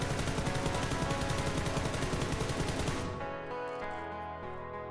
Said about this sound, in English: as you can see from these sprays with the M416, it's business as usual